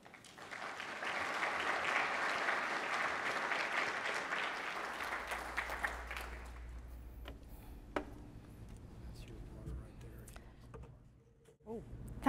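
A school audience applauds to welcome Anne Simpson, CalPERS Director of Corporate Governance, with dense, loud clapping that fades out after about six seconds, leaving room noise and a few scattered sounds.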